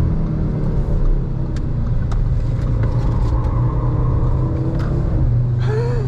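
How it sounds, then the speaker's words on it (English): A 2024 BMW M2 or Audi RS3 sweeps through a corner at speed, its engine drone and road rumble steady and close throughout, with faint tire and wind noise rising near the end. "See how it handles this corner here. We'll take it with a little bit of speed here."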